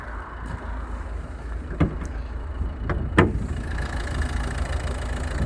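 A 2011 Volvo V50 1.6 D2 diesel engine idles steadily at close range, with a low rumble and a few sharp clicks or knocks over it.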